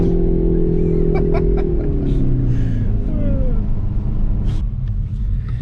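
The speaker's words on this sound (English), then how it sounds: "Those backfires are fucking insane." A stock 2021 Hyundai Veloster N exhaust rumbles loudly as revs fall, with a few sharp backfire pops crackling over the drone, while people laugh and chuckle nearby.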